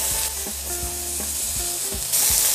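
Zucchini and potatoes sizzle steadily in a large frying pan on a stovetop, with close, repeated scraping and clicking from stirring through the frying.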